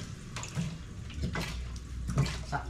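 Beef broth for papaitan is ladled and poured into a container, giving a steady wet splashing and trickling with short louder pours, close and alone without talk.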